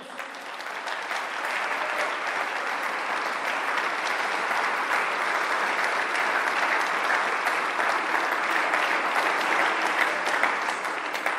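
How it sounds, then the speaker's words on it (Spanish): Sustained, full applause from a Christian church congregation swells after a brief start and holds at an even, crowded level for about ten seconds, without any clear speech over it. "denle un aplauso a nuestro Dios"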